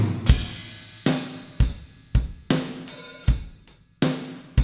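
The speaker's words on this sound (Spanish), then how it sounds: "Primero escuchemos la batería normal" Unprocessed drum kit, badly recorded and played without compression or room sound, with kick and snare hits in a steady groove and cymbals splashing on the accents, dry and close.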